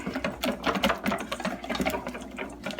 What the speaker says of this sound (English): you're just gonna whisk this together until you like your consistency